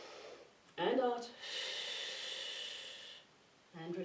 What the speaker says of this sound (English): Breathing in through the nose, out through the mouth.